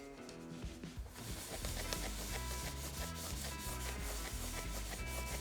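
Stainless steel cookware scrubbed hard with baking soda, a steady close-up rasping rub that keeps going without a break, loud and rhythmic with no voices.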